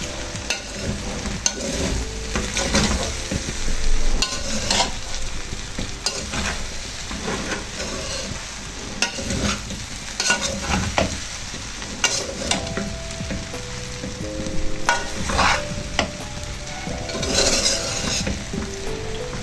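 Chicken sizzles steadily in a frying pot while a utensil stirs and scrapes through it, with frequent clinks against the metal, close and busy, with no talk.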